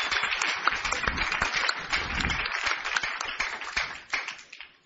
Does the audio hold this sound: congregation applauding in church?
yes